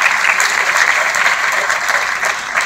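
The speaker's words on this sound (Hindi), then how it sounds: "जोरदार ताली बजे।" Loud, dense clapping from an audience at an award ceremony, a continuous wash of hands that holds steady for nearly three seconds with no voices over it.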